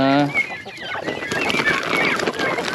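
Broiler chickens cluck and squawk continuously nearby on a farm, a busy overlapping chatter of several birds.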